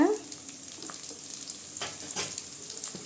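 Small onions being sautéed in a pan for a drumstick stir-fry, a soft low sizzle with a few scraping stirs, quiet and close, no voices.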